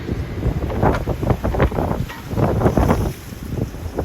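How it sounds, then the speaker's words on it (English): Strong outdoor wind, around thirty miles an hour, buffets the microphone in a steady low roar with gusty surges, loud and close. "That would be a 30-mile-an-hour wind."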